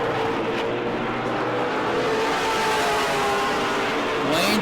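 Florida Modified race cars roar past at New Smyrna Speedway during a late-lap World Series race. The loud, sustained engine drone shifts pitch as the cars come off the corner, with a fresh rising whine at the very end.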